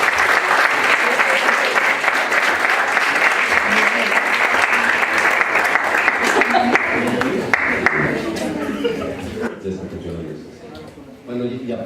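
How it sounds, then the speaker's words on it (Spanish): A large audience at a Mexican lecture on the 2018 candidacies gives a sustained, loud round of applause for Marcos Pineda Godoy that thins and fades out near the end. "le demos un fuerte aplauso al doctor Marcos Pineda Godoy"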